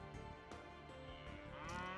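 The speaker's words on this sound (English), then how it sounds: "you do have some cows hoovering around in the middle" Cattle mooing in the medieval strategy game Stronghold, a drawn-out, droning low call lasting through the whole moment, fairly loud and clear, with no voices over it.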